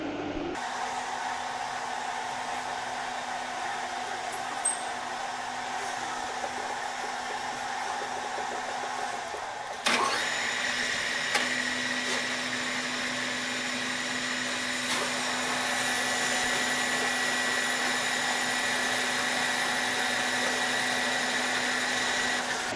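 A metal lathe turns a workpiece supported by a live center, giving a steady high whine and hum. After a sharp clunk partway through, the tone shifts slightly and keeps running evenly to the end.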